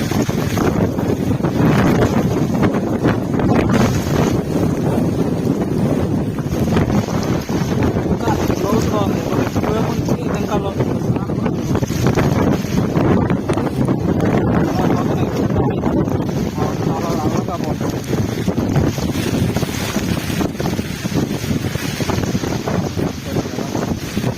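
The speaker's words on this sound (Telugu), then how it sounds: "గాలి ఎక్కువగా ఉంది అందువల్ల నేను వీడియో తీయాలన్నా కూడా కొంచెం కష్టంగానే ఉంది" Strong wind roars steadily into the microphone across flooded fields during a storm, buffeting throughout with a faint splash of waves beneath.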